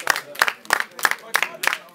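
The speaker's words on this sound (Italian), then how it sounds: "Un applauso per Mister Shine." Scattered applause from a small crowd at an outdoor freestyle rap battle in San Cesario, Lecce, for the rapper Mister Shine: sharp irregular claps in quick bursts, fairly close, with voices mixed in.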